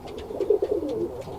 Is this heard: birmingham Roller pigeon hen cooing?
yes